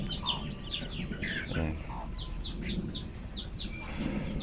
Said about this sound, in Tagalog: ayan ang mga magagandang inahin.